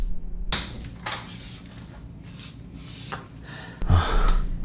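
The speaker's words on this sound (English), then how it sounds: "I go to the bathroom for my breathing exercise." Breathing exercise in a bathroom: a sharp inhaled gasp, then several audible breaths and sighs at close range, ending in a louder exhale, with no talking.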